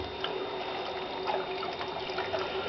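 Water gurgles and trickles through sink drains while a toilet is unblocked, with an irregular, close bubbling and dribbling over a faint steady hum.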